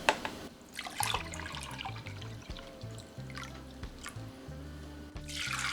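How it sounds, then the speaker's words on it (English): Water is poured from a two-cup measuring cup into a pot for Jamaican sorrel, coming in short splashing bursts with brief gaps, close and fairly quiet. "So let's start adding the water."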